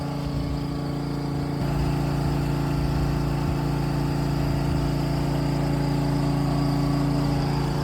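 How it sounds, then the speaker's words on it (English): Steady engine-driven pump drones on without a break, pumping water out of a sunken boat in Florida Keys waters; a loud, continuous motor hum close by with no talk over it. "As they're pumping the water out,"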